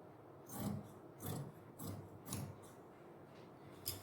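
Scissors cut through lined suit fabric in a series of about six close, rasping snips spaced roughly half a second apart, each a brief crisp crunch against a quiet room.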